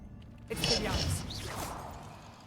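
Expelliarmus spell cast in the Hogwarts Legacy video game, heard as a sudden magical swoosh with shimmering, sweeping tones that fades over about a second, with a voice over it.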